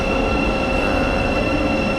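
An intercity-style train pulls into a station in England, loud and close, with a heavy rolling rumble of wheels on rails and a faint steady squeal over it and no voices.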